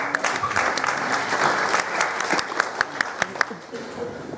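A conference audience claps for a speaker, giving steady applause that tapers into a few scattered, louder individual claps, with some voices underneath.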